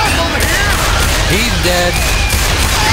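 Rapid gunfire bursts rattle through a Left 4 Dead 2 zombie fight, loud and dense, with a voice calling out over the shooting.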